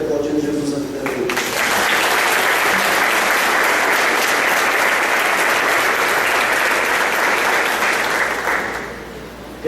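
A church congregation at a celebration service applauds loudly and steadily for several seconds, a dense wash of clapping that tapers off at the end, following a brief voice at the start.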